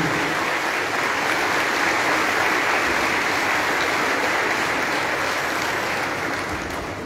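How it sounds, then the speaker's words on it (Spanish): A church congregation at a Confirmation Mass in the Santiago Apóstol parish gives loud, dense, sustained applause, a steady roar of many hands that holds for several seconds before easing slightly at the end. "Fuerte, fuerte, fuerte el aplauso."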